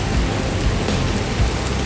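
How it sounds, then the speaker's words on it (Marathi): Torrential monsoon rain lashes down beside a house with a laterite stone wall, a loud, unbroken roar of water and wind, with deep rumbles of thunder swelling underneath and no voices. "एक नंबर वारा पाऊस चालू असा, गडगडता पण असा, वारा पण असा आणि पाऊस पण पडताय बघा."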